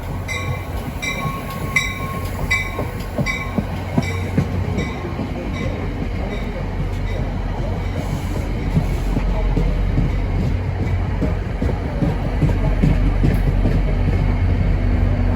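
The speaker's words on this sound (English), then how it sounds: "We got this Hoboken bound train with another Jeep." A Hoboken-bound New Jersey Transit commuter train hauled by a GP40-type locomotive rumbles steadily past close by, with rhythmic wheel clatter over rail joints and a continuous low roar throughout.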